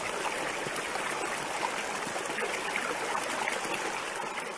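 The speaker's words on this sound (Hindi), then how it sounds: "पास में कृष्णा नदी है।" Water of the Krishna river flows in a steady, even rush, a continuous broadband stream sound at constant loudness with no voices or breaks.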